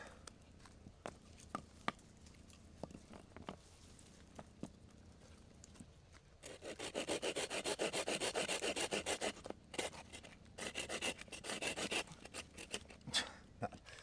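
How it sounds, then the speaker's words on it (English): An Amazon Basics folding saw cuts through a branch about 1.5 inches thick. Faint scattered knocks come first, then a steady rhythmic rasp of back-and-forth strokes that briefly stops and resumes. "I'm going to take that Amazon Basics folding saw"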